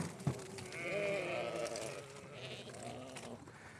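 Sheep and goats bleating repeatedly as they come toward feed being poured on a farm, several overlapping calls at moderate distance.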